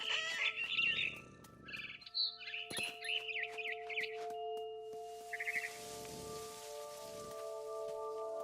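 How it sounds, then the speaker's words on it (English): A barn swallow chirping outside a window in the game What Remains of Edith Finch, a run of bright chirps and tweets over a steady tonal background hum with patches of soft rain-like hiss. "Then I heard chirping outside my window. It was a barn swallow going back to her nest."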